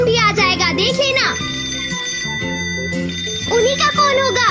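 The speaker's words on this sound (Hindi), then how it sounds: "उन्हीं का फोन होगा।" A telephone rings in an episode of the Doraemon cartoon, its bright electronic tone repeating in short bursts, loud and close, while a voice talks over part of it.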